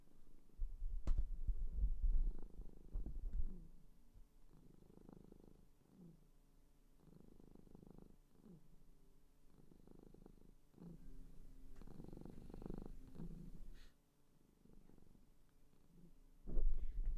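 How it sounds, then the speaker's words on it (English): A pet cat purrs loudly up close, a rumbling, throbbing purr pulsing in steady cycles that run almost without a break. "you might hear my cat purring."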